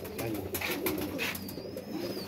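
Pigeons coo repeatedly in soft, throaty bursts nearby, several overlapping calls rising and falling, with light clicks and a faint whistle in the background.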